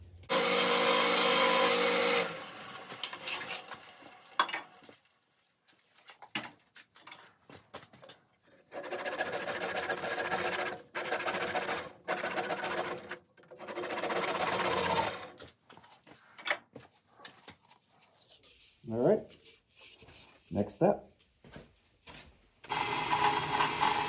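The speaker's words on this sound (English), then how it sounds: "Just gonna part it off now" Wood being parted off on a lathe while turning an acorn birdhouse, a close scraping, rasping cut in bursts with brief gaps, the motor whirring under the tool and pitch shifting as the piece separates near the end.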